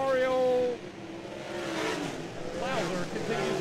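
Sprint cars race at Charleston Speedway in a WAR Sprint League event, engines rising and fading as the cars pass, heard at a distance under a commentator's voice.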